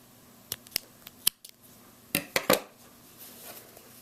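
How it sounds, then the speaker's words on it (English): Scissors snip through crochet yarn after a baby bootie is fastened off, giving several short, sharp clicks spaced apart, then a tight cluster of three snips, close and quiet in an otherwise hushed room. "fasten off, cut our yarn"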